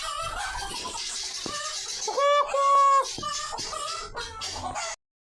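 Chickens in a backyard flock cluck and squawk close by, a series of loud, sharp, tonal calls with a longer drawn-out cackle in the middle, ending abruptly in silence.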